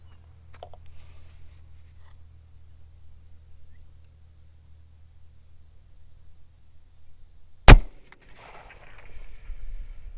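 A single sharp, loud rifle shot cracks out close by after a stretch of near silence and low hum, followed by faint rustling and handling noise.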